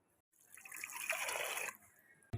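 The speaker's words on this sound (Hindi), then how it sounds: "अब इसमें डालेंगे पानी।" Water is poured from a glass into a cooking pot holding jaggery, a steady splashing pour lasting about a second and a half before it stops, followed by a brief clunk.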